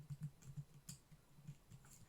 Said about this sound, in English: we're going to go to text and we're going to type the word